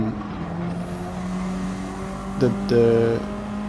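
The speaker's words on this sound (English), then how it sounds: "engine braking" A Gr.3 race car's engine in the Gran Turismo racing game, engine braking into a corner: a steady, droning engine note that holds throughout, with a brief change in tone and a short surge near the end.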